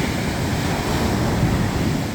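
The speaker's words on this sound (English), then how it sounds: "that's not a massive wave" Sea waves wash steadily against a stony shore on a coastal path, a continuous close rush of surf with some wind noise on the microphone.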